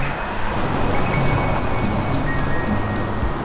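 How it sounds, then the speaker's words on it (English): Cars drive past very close on a road bridge over a river, heard from a pedestrian walkway as a steady, loud roar of traffic that continues without a break. "The cars are very loud and very close to you."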